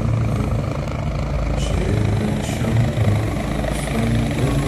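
Helicopter flying on the Amarnath Yatra route between Baltal and Panchtarni, a steady loud rotor and engine drone that stays continuous throughout.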